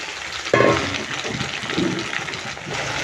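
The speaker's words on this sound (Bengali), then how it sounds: "বাকি মাছগুলো ভেজে নেবে?" Pabda fish frying in oil in a pan for a Bengali fish curry, giving a steady, loud broadband sizzle with a brief louder burst of spattering and faint voices beneath.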